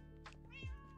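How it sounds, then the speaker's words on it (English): A single cat meow from Minecraft, sounding once over a steady game background hum and swelling midway through the second-long moment. "Oh, that's my cat."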